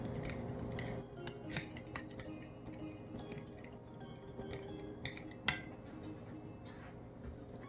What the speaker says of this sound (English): And then we stir this together